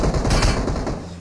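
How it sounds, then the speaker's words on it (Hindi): Dense, continuous automatic gunfire in PUBG Mobile on the Livik map, a rapid sustained burst of loud shots filling the whole moment with no voice over it. "full firing"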